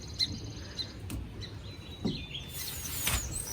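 Sparrows nesting near a house chirp faintly in scattered short calls, a few thin tweets spread across a quiet outdoor background.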